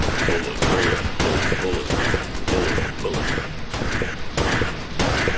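Rapid, dense gunfire from the video game Enter the Gungeon, loud repeating shots in regular pulses that continue without a break throughout.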